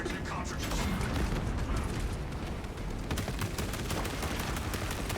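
Heavy bolt rifle fire in a Warhammer 40,000 Space Marine game, played as a Techmarine against Tyranid and Chaos hordes, as a dense, continuous roar of shots and explosions that never lets up over the whole span.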